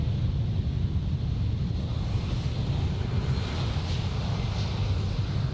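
A KLM Cityhopper airliner bound for Hamburg passes at Amsterdam airport, giving a steady broadband engine rush mixed with wind buffeting on the microphone, constant in level with no speech.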